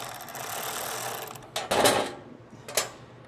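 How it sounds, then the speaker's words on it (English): An 8mm socket and wrench work loose rusted locking nuts on a Generac XG8000E generator, giving a couple of short metallic ratcheting bursts and scrapes close by over a steady low hum. "it's 8mm socket and wrench to get them off"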